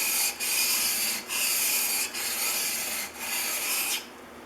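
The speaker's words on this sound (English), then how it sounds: "I got to lap this part of the irons right here, lap them down till they're perfectly flat" The iron of a Stanley No. 60 low angle block plane is rubbed flat on 150 grit sandpaper in about five even strokes, a close, loud, gritty rasp with short pauses between passes.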